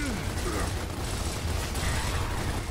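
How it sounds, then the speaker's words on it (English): Rapid, dense gunfire from the video game Gears of War, a continuous loud clatter of shots and mechanical rattling that runs steadily throughout. "I can hear gunfire."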